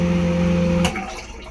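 A Seaflo Quiet Flush marine toilet flushes with salt water: a steady, close pump hum with a humming tone and watery wash runs for under a second, then cuts off, leaving a fading trickle.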